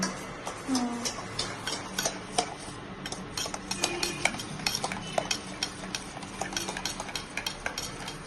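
Yogurt being whisked with water in a bowl for a meat curry, a busy run of quick scraping, clinking strokes that carries on steadily, fairly close, with no talk over it.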